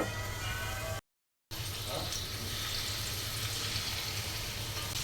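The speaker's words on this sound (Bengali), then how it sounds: "মাছ ভেজে নিচ্ছি" Small shrimp frying in oil in a pan for a home-cooked vegetable curry, a steady broadband hiss and sizzle with a brief gap of silence near the start, then continuing evenly up close.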